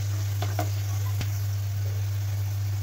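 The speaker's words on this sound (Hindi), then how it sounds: "दाल, ज़ीरा और साबुत काली मिर्च भून चुके हैं।" Lentils, cumin seeds and whole black peppercorns frying in hot oil in a pan for masoor khichdi, giving a steady soft sizzle with a few faint stirring knocks, no talking.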